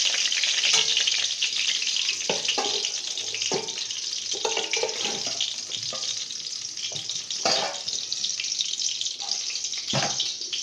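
Eggplant slices from a home garden frying in a pan, giving a continuous bright sizzle with occasional scrapes and clinks of a utensil against the pan, and no talking.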